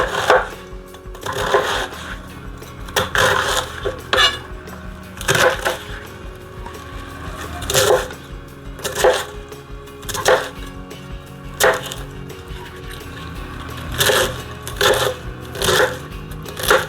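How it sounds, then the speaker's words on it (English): A big knife chops through cabbage on a board for a beef stew, giving sharp, crunchy thuds at a steady, unhurried pace of roughly one cut per second, close and clear with no talking. "Okay, last bit, cabbage. Best with a big knife, if you've got one."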